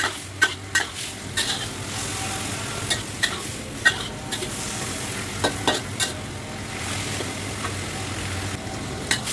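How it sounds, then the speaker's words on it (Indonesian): Fried tofu and luffa are stir-fried in oyster sauce, with a continuous sizzle under repeated sharp spatula scrapes and knocks against the pan at an irregular rhythm, close and fairly loud, without speech. "Kemudian di sini oyong atau gambas. Saya aduk lagi."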